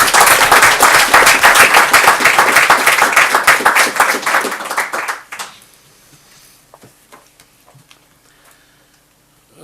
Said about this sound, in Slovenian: prosim, da to potrdimo tudi s manjšim aplavzom